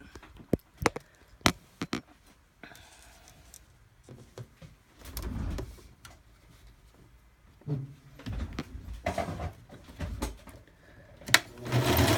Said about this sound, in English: So I just did a straight stitch, nothing fancy.